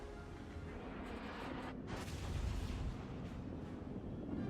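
Warship guns in a naval battle game fire in heavy, booming, low rumbling salvos, loud and continuous with layered blasts and rolling reverberation.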